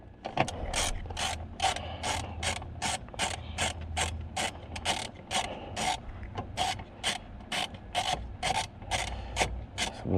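A ratchet wrench loosening a bolt on a car's interior trim piece gives a long run of steady, evenly spaced clicks, close and clear with no talking.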